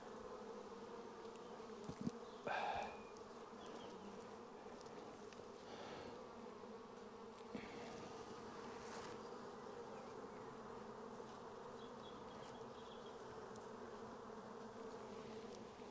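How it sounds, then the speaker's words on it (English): Steady buzzing of many honeybees around a hive, a continuous hum with a few closer passes and faint knocks. "gently touch the back of the bees and they move"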